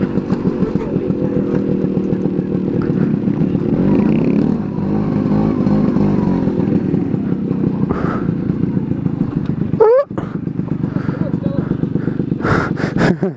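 A Honda Grom motorcycle rides off-road in open country, its small engine droning steadily near the mic with a sharp rev near the middle and throttle blips toward the end, while people talk over it.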